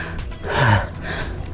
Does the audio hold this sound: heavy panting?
yes